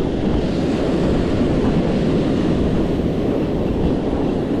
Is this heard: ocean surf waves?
yes